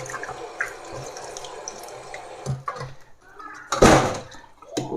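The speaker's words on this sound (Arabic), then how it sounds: "لازم نغسلها كويس عشان القشر ده بيبقى عليه بلاوي" A watermelon is washed under a running kitchen tap, with water splashing and pattering over the rind, a louder gush midway, and handling knocks around it.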